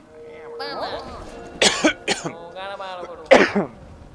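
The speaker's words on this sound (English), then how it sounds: "Every time I get sick, I always have this lingering cough, and it lingers for like 6 weeks." A lingering cough from someone who has been sick: a couple of harsh coughing bursts and some throat clearing, close up, interleaved with speech and vocal sounds.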